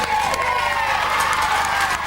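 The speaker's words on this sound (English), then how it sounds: "Round of applause!" A television studio audience erupts into loud, sustained cheering and applause with whoops and shouts, continuous for the whole stretch and close to the microphones.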